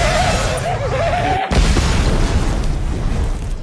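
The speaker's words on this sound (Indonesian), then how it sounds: "terjadilah ledakan yang cukup besar." A large explosion from an action film booms loudly and rumbles on, with a faint voice underneath just before the blast.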